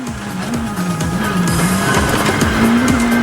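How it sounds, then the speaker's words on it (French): Turbocharged Skoda Fabia or Ford Fiesta rally car fighting for grip on gravel at the San Marino Rally, its engine loud and steady throughout with rising and falling revs and repeated turbo chatter, heard close. "On s'aperçoit que Mikkelsen se bat vraiment contre le gravier avec sa voiture turbo."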